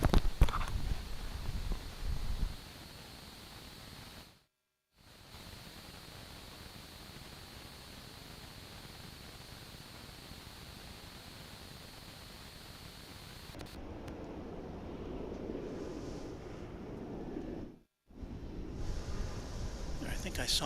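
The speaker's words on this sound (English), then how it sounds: "You can probably hear the wind," Wind sweeps across DFW International Airport from due south, a steady, broad rushing noise buffeting the microphone for the whole stretch, with two brief dropouts.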